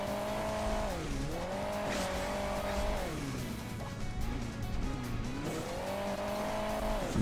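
A car revving and driving in the mobile game Hill Climb Racing 2, the engine note climbing and dropping in repeated swells as it accelerates and eases off, steady and close with no talk.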